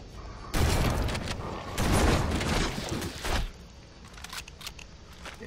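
Shotgun blasts in the first-person shooter Halo: Combat Evolved, two loud close booming shots about a second apart followed by a shorter third burst and quieter clattering in-game noise.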